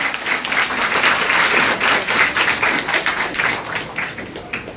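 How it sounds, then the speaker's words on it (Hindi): Loud, close audience applause at a school quiz event, Himachal Utsav 2025 at NG's Vidyamandir in Shimla, with many hands clapping in a thick, fluttering texture that holds strong before thinning slightly at the end. "एक बार अपने लिए तालियां"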